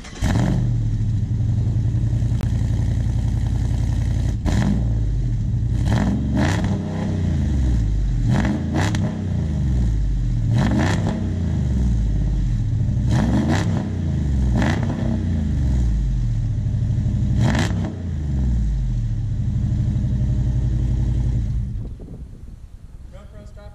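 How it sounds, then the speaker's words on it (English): A custom 500 hp V8 Jeep Wrangler with a loud exhaust starts up and revs repeatedly, with deep rumbling idle broken by several rising throttle blips, close and loud, before the engine is shut off. "How is this thing with a V8 in the front to drive with that exhaust? Let's find out right after this startup."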